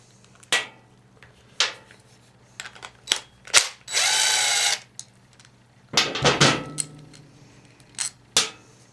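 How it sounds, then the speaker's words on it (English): A ratchet working bolts out of a push mower's throttle linkage: short bursts of close clicking, with a longer continuous whirring spell in the middle and scattered clanks between, no talk. "get those bolts out of there"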